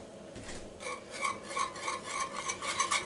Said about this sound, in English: So get this into a nice stir, and look at how that's thickening up already.